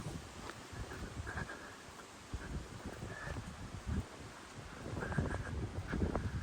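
Steady outdoor wind rushes and buffets the microphone on a hillside several hundred feet above sea level at Eyam in the Peak District, with gusts swelling louder toward the end and no voices.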